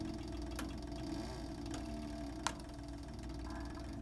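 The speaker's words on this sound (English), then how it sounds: "at the very end, I'm going to do one reverse stitch here" A CB 3200 sewing machine runs a reverse stitch through leather, a low steady mechanical hum with a few faint sharp ticks, quiet and close, no talk.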